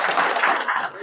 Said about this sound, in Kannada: ಅವ್ರಿಗೊಂದು ಚಪ್ಪಾಳೆ ಕೊಡಿ ಜೋರಾಗಿ